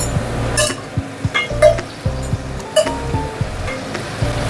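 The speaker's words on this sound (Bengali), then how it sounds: "এবার দিয়ে দেবো আমি এই কাবলি ছোলাটা, সেদ্ধ কাবলি ছোলাটা।" Boiled kabuli chickpeas tipped into a cooking pan for chana masala, with repeated clinks and scraping of metal utensils against the pan, a hissing sizzle underneath, close and fairly loud.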